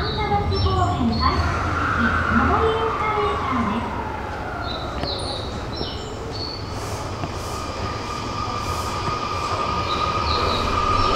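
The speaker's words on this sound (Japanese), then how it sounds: "地下鉄線内に入っていくメトロ箱根号、ここでお客さんのほとんどを降ろし" A Romancecar express train, the Metro Hakone, rumbles past with rolling wheel noise and faint squeals as it runs into a subway line, with someone talking over it.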